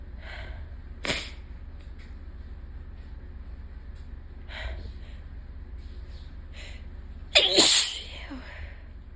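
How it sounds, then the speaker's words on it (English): Allergy sneezes burst out sharply up close, one near the start, a softer one midway, and a loud explosive sneeze near the end, each separated by quiet breathing over a steady low hum. "And I have to sneeze."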